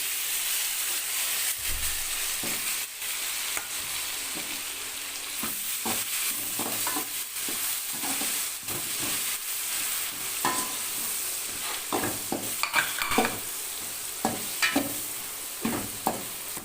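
Chopped tomatoes sautéing in a pan for a gravy: a steady hissing sizzle close by, broken by stirring scrapes and a run of clicks from the utensil toward the end.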